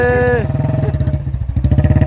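A motorcycle engine idles and revs close by at a Kotkapura market, with a steady pulsing putter, a brief tonal sound at the start, then continuous throbbing until the end.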